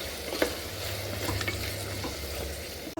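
Vegetable pulao ingredients with paste frying in a pan, a dense, steady sizzle with a few soft stirring scrapes, close and fairly even throughout.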